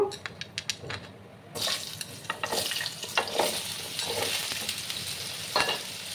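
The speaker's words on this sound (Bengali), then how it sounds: "দেখো, এবার আমি মিষ্টি কুমড়োগুলো দিয়ে দেবো।" Pumpkin pieces drop into hot oil in a pan and sizzle steadily, with scraping stir strokes. The frying hiss swells after the first second and holds close and bright to the end, with no talking.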